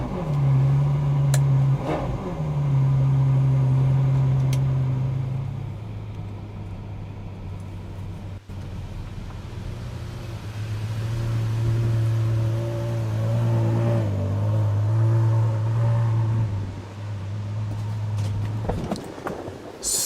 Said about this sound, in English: we're starting right here with the V12 Ferrari GTC4 Lusso